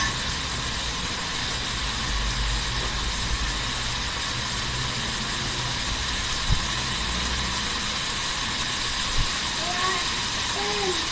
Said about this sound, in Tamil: நல்லா வதக்கிக்கோங்க ஒரு 5 நிமிஷம்.